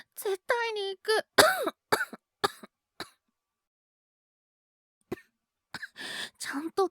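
A young boy with a cold coughs in a series of short, harsh bursts mixed with throat clearing, heard close and indoors, followed by a pause and a few more breathy coughs.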